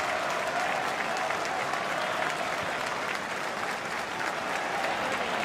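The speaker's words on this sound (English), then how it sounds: "There'll be applause across this minute of the game too to give her some support." A football stadium crowd at a Swindon Town v Manchester City FA Cup tie applauds steadily in support of a young fan, a broad, even wash of distant clapping that holds throughout.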